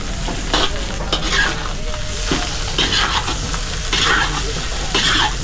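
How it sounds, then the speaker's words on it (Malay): Rice being stir-fried in a pan for kampung-style fried rice, with a steady sizzle and repeated scraping, stirring strokes of a utensil recurring every second or so, close and fairly loud, no talking. "dan kita nak goreng nasi"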